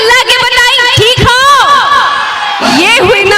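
A huge crowd at a stage show shouts and cheers loudly in unison, a dense roar of many raised voices that rises and falls over a few seconds.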